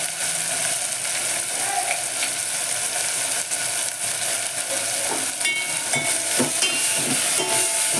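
Tomatoes with half a spoon of turmeric sizzle steadily in a pan for dal, a continuous close hiss with occasional scraping and stirring clatter.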